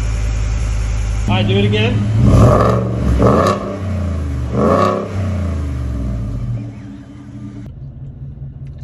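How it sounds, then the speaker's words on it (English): A stock-exhaust Ford F-150 with the 5.0 Coyote V8 rumbles at a cold start, then revs up in several loud rising bursts and settles back to idle, close by, with a brief spoken remark. "stock exhaust. Cold start."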